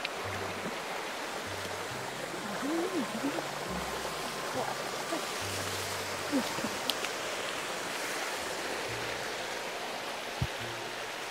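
Water rushes steadily through a rocky mountain stream gully used for bathing and washing, a continuous broadband hiss at moderate level with faint low hum and murmurs underneath.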